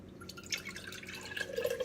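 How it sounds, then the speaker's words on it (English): Strained homemade oat milk pours into a jar with a soft, continuous trickling and dripping, quiet and close, with no talking. "See how nice that pours right out?"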